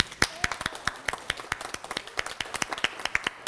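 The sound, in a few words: audience applause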